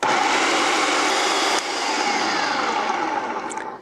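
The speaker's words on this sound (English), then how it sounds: "So we're going to go ahead and blend this until the pesto is like a smooth paste" A blender whirs loudly and steadily, puréeing basil pesto into a smooth paste, with a brief dip in the motor sound partway through before it winds down at the end.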